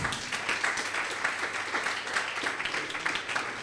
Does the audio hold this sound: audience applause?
yes